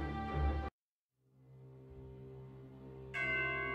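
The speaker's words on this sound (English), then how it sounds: "Beware, St. Toad's crack chimes!" Deep church bell tones ring out in a dark poem reading about cracked chimes, a struck bell humming on after a brief silence before a fresh chime.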